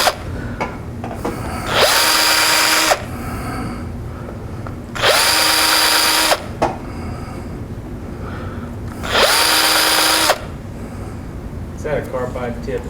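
Drill chamfering a hole in a laminated wooden Christmas tree ornament, three loud whirring bursts of about a second each, separated by pauses with soft background noise and bits of talk.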